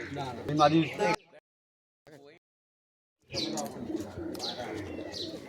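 Pigeons kept at a house coo and flutter close by in short bursts, broken by brief quiet gaps, with people talking over the birds.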